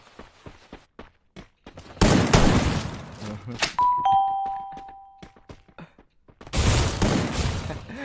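Gunfire in a shooting video game, with several loud bursts of shots and a ringing metallic tone between them, close and in the foreground, with short sounds scattered around them.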